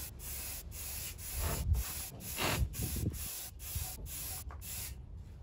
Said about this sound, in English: Let's spray some primer.